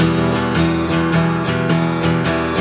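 Guitar strummed in a swung eighth-note pattern, an easy beginner groove with a lilting uneven rhythm, steady and close with no talking.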